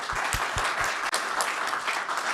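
An audience at a panel discussion applauds the panelists, a full, steady wash of many hands clapping, loud and close, with a few sharper individual claps standing out near the start.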